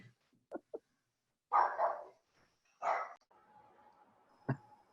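A dog gives a few sharp, close barks in short bursts, with a couple of small yips before them and quiet gaps between, ending on one more brief bark.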